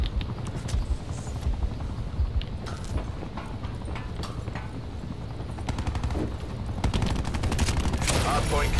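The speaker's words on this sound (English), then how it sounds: "I just got another attack helicopter." Gunfire and an attack helicopter in a Black Ops 4 multiplayer match: bursts of rapid shots crackle over a constant rumbling drone, growing louder and denser toward the end.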